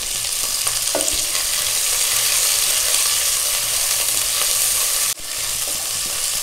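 Chopped cabbage sizzles steadily in a hot pan for Schezwan noodles, a loud continuous frying hiss with a few stirring scrapes and a brief dip near the end.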